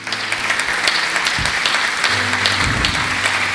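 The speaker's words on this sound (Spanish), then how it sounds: "¿Cuánto le dan un aplauso a Jesús?" Congregation in a church service applauding in praise of Jesus, a steady dense wash of clapping from many hands that fills the room, with a few deeper thumps partway through.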